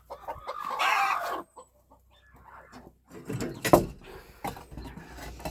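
A hen clucks and squawks in agitated bursts, close by, with brief quiet gaps and a sharp loud squawk near the end.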